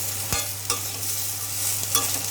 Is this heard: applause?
no